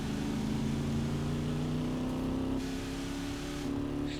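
Stock car racing engines in GRID 2019 drone steadily, with rising pitch as the cars accelerate, a shift partway through, and no talk over the sustained roar.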